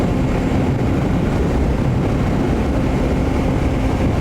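A Honda CB125F motorcycle with a 120cc fuel-injected engine rides along, its engine a dense, steady low rumble mixed with wind noise, close and unbroken throughout.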